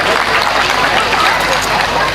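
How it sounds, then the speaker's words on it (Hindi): Loud applause from the audience welcoming child actors at a Ram Leela stage performance, dense steady clapping with crowd murmur, close and continuous. "एक बार जोरदार तालियों से हम इन सभी नन्हे कलाकारों"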